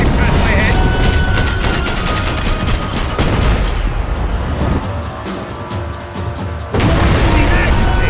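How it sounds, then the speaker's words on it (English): Heavy gunfire in the Max Payne 3 video game, a dense, loud barrage of rapid shots and bangs with bullets whizzing past. It continues almost without a break while voices shout over it. "I can't concentrate with bullets whizzing past my head!"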